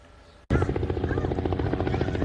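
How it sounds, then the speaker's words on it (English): A helicopter flies low over Hoboken. After a brief quiet moment its loud, pulsing rotor thrum cuts in suddenly and holds steady and close. "Helicopters flying over Hoboken."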